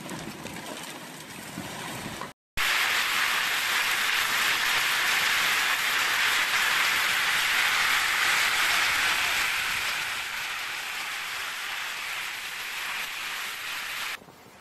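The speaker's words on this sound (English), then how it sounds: "A powerful storm hit Sicily, plunging part of the Italian island into chaos as torrential rain, strong winds and flash floods swept through" Torrential rain and strong wind during a powerful storm in Sicily make a loud, dense, continuous roar that cuts out briefly near the start and eases slightly toward the end.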